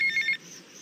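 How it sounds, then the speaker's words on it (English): A phone rings in GTA Vice City, one short electronic trill of rapid repeated beeps that cuts off abruptly, clear and close, with no speech. "Let's go ahead and take a phone call from Steve Scott."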